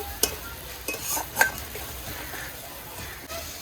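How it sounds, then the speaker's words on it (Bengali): Spice paste with yogurt stirred and frying in a pan, a soft steady sizzle under scraping spoon strokes with a few light clinks, close and alone. "এবারে মশলা কষিয়ে নেব।"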